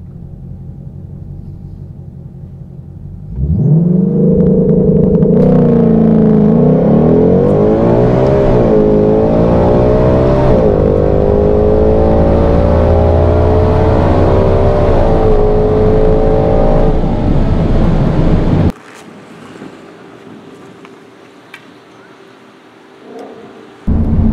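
A 2020 Shelby GT500 on stock boost in manual mode launches hard for a drag test: a loud, close roar climbs through several gear changes for about fifteen seconds, then drops to a quieter rumble.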